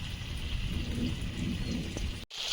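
Steady rain pours during a thunderstorm, a dense, continuous hiss of drops striking surfaces nearby, with faint low rumbling beneath and a brief dropout near the end.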